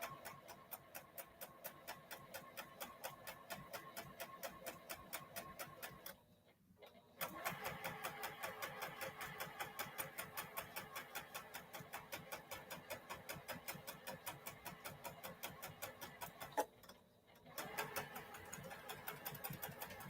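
A sewing machine stitches a Dresden Plate quilt block in a fast, steady run of needle strokes, pausing briefly twice before carrying on at the same even rhythm, close and clear with no talking.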